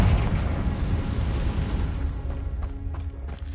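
A Confringo fire spell explodes in Hogwarts Legacy as a deep, rumbling boom that fades, with a few faint crackles trailing off.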